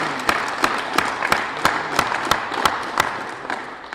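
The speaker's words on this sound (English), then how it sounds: "she does deserve a round of applause" Audience applause at a public gathering of elected officials, a steady wash of hand claps with sharper individual claps popping out at a regular pace throughout, fairly loud and sustained with no voices over it.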